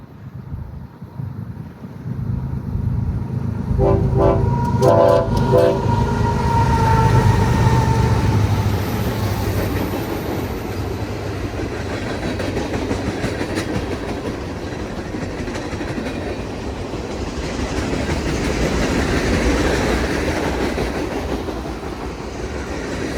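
An eastbound mixed freight train on the Provo Subdivision in Utah labors uphill past, with rhythmic wheel clatter and wind buffeting, a brief loud horn blast early on, heavy rumble building and lingering.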